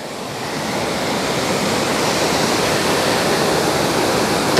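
A waterfall beside a castle in fresh snow, giving a steady, full rushing roar that holds at even loudness throughout with no voices.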